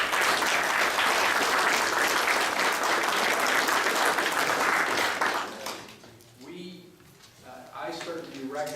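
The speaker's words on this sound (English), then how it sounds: "let's give them a round of applause" A large audience gives a round of applause for the judges at a university engineering design event, dense clapping that fills the room for about five seconds, then dies away as a voice begins speaking.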